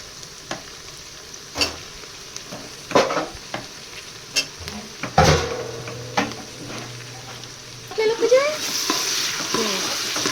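Frying in a pan for biryani: a soft sizzle under repeated sharp scrapes and knocks of a stirring utensil, spaced irregularly, with the frying swelling louder near the end.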